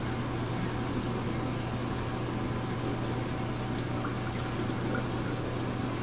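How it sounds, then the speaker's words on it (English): Water flowing from the valve of an aquarium automatic top-off container, a steady, even hiss and trickle with a low hum underneath, continuous and fairly quiet without speech. "Open the valve that comes out of the container to make sure that there is water flow."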